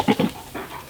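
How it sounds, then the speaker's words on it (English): A Great Pyrenees dog pants and whimpers close by, a couple of short breathy bursts followed by softer, quieter panting. "So I have Bear around, and we've got another Great Pyrenees"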